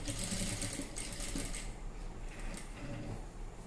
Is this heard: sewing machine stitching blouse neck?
yes